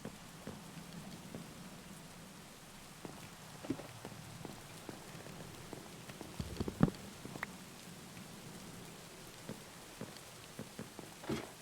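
Rain falls steadily in the video game Minecraft, a quiet, even patter with scattered louder drops over a soft background hiss throughout.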